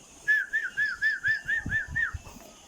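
A person whistles a run of about eight short, evenly spaced rising notes to draw baby quail chicks closer during brooding, with soft low thumps and rustling underneath.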